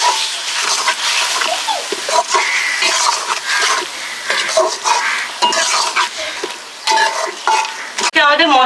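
Fish curry masala with chopped green chillies is stirred vigorously in a hot pan, producing loud, close sizzling with rhythmic spatula scrapes and clanks against the metal throughout.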